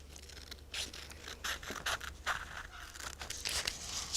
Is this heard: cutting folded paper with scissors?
yes